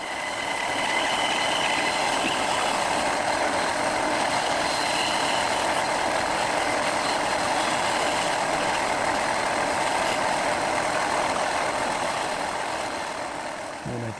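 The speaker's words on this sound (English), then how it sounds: "The one that I already cut can be cut on the bandsaw with it held in a clamp" A bandsaw cuts through a 3D-printed clamp cam held in a clamp, giving a steady, loud, continuous whir and buzz that carries evenly from start to finish with no talking.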